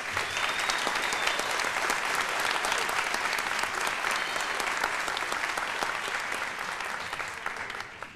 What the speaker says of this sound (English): Can we have a big round of applause for Mary?